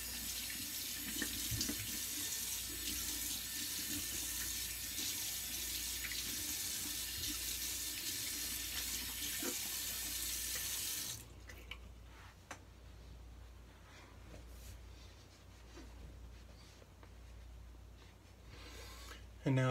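Tap water runs steadily into a sink to rinse alum off a freshly shaved face, a dense continuous splash that stops abruptly partway through, leaving quieter handling sounds.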